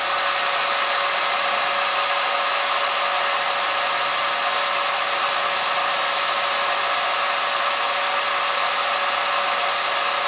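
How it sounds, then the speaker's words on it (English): A Harbor Freight heat gun blows hot air during motorcycle wire-harness work, giving a constant, even rushing roar with a fan whine that runs unbroken and close throughout. "This is a Harbor Freight heat gun."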